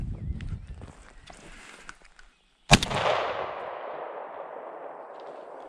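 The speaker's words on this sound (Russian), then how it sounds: "Вот это выстрел" A single loud shotgun blast during a woodcock hunt in autumn birch woods, a sharp close crack followed by a long fading echo, preceded by quiet rustling outdoor background.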